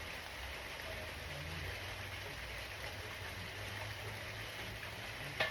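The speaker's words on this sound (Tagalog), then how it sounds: "Yeah, it's drizzling here." Light drizzle falls outdoors in a backyard in the afternoon, a steady soft patter of rain that is faint and continuous, with no talking.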